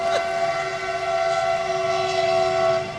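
Passing train sounding a long, loud, steady horn over the rumble of the cars, close by and continuous throughout, with no voices.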